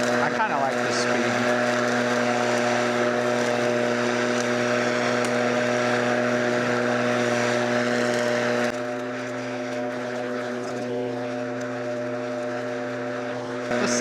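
A Litheli 18.5-inch battery-powered lawn mower runs at its slow speed setting, giving a steady, loud electric motor hum with a constant pitch that drops slightly in level partway through.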